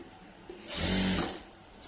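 A brief burst of a sewing machine stitching a piped princess-cut blouse, rising and fading over about half a second against a quiet room.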